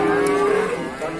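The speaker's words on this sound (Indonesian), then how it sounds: "Sapi." A cow lets out a single close, loud, drawn-out moo that fills the whole moment at a cattle market, with no talking over it.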